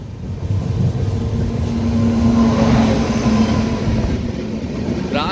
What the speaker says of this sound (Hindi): हजरत निजामुद्दीन मडगांव राजधानी एक्सप्रेस।